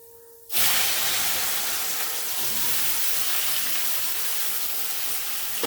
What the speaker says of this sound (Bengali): এইবার আমি লতিটা দিয়ে দেবো।